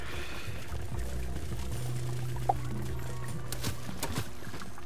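Water effect in the PS4 game Dreams gives a soft continuous pouring and trickling wash, faint and steady, with a few small splashy bursts toward the end.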